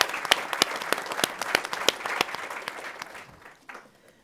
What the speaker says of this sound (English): Let's give everyone a nice round of applause.